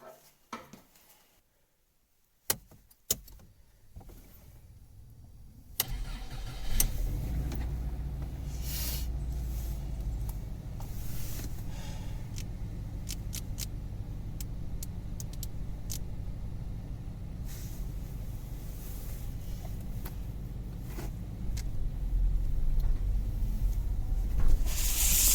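A car is started after a thermostat replacement: a few clicks and clunks in near silence, then the engine catches and settles into a low steady idle rumble that swells slightly toward the end.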